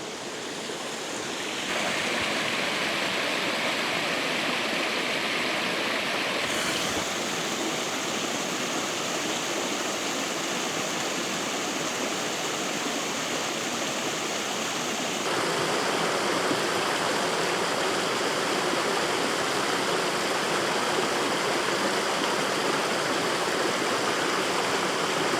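A small woodland waterfall on a river pours steadily, a dense, even rushing roar heard close and alone for the whole stretch, with no voices.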